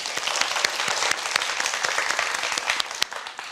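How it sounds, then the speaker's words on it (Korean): Studio audience on a Korean student quiz show applauds steadily, a dense wash of clapping with a few sharper claps standing out, near and fairly loud, with no talk over it. "박수를 청해 보겠습니다."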